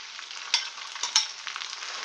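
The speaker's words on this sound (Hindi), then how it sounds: "घी मेल्ट हो चुका है, अब हम इसमें ये कसे हुए आलू डाल देंगे" Grated potatoes fry in melted ghee with a close, steady crackling sizzle punctuated by a few sharper pops and spatters.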